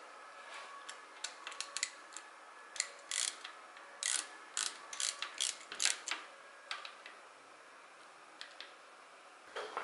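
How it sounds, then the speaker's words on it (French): Wrench tightening a screw on a Kawasaki ZX12R motorcycle during throttle body synchronisation, heard as faint, irregular ratcheting clicks in small clusters over a steady background hiss. "Et tu finis par la visser à la clé."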